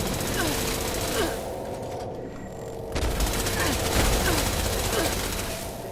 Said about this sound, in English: The Tesla cannon did really well.